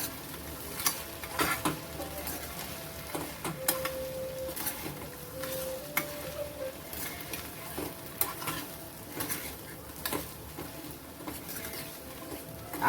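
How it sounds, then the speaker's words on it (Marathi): Mixed ingredients with crushed curry leaves are sautéed in a pan for a light Maharashtrian snack, giving a steady soft sizzle with scraping stirs and occasional spoon clinks against the metal throughout. "सगळं घालून घ्यायचं आहे आणि छान परतून घ्यायचे"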